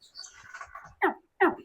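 A person imitates the chirping call of a juvenile alligator at a feeding spot for a crocodilian. A few soft, high chirps are followed by two short, louder bursts, heard close and alone.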